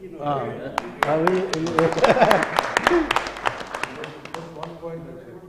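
Audience applause at an international conference, scattered sharp claps rising under a speaking voice and then thinning out.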